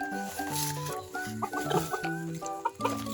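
Chickens, including silkies, cluck in a pen next to lovebirds, giving a quick run of close, fairly quiet clucks and chirps over steady background hum, with no speech.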